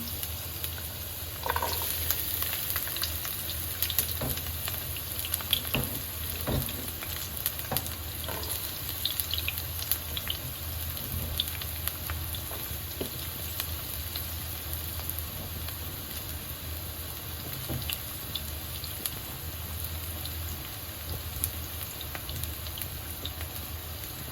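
Meat frying with onion, garlic and tomato gives a steady, close sizzle and crackle in the pan, running evenly with scattered pops and no speech.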